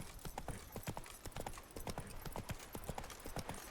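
Hooves of Roach, a horse in The Witcher 3, clop in a brisk, regular trotting rhythm, soft and steady throughout, with no voices over them.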